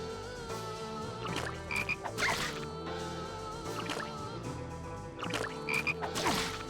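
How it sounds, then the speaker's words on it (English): Frogs in the video game Shadow Hearts croak in repeated clusters of wet, throaty calls with squelchy clicks, set against a droning game soundtrack. "These are resilient frogs."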